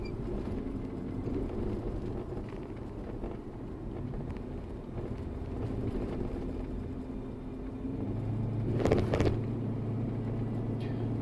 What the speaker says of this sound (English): it is my first Hemi with dual exhaust